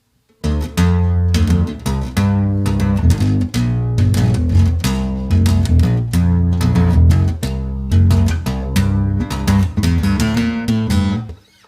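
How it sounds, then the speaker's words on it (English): Dark bass guitar riff in the Aeolian mode, a steady sequence of plucked low notes played close and loud, starting after a brief silence and carrying on alone without any talk. "it starts with kind of a bass riff"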